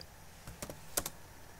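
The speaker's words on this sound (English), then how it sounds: "go to search menu and type Microsoft Store." A few quick keystrokes on a computer keyboard, close and fairly quiet, come in a short burst with no talking.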